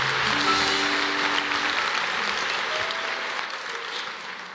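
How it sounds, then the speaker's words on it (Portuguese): A church congregation applauds in praise at a worship service, a steady dense wash of clapping that holds loud throughout and tapers only slightly toward the end. "Aleluia, aplauda ao Senhor."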